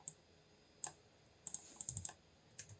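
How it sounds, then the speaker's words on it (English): Computer keyboard keys click in short bursts, a handful of sharp taps spaced irregularly and then a quick cluster, close and quiet with no other sound. "So hold 2 on your keyboard"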